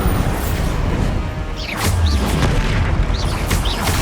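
Bombarda spell explosions in Hogwarts Legacy: deep booms and crashing impacts over a dense combat din, with whooshing magical streaks and a heavier low-end blast near the middle, loud throughout.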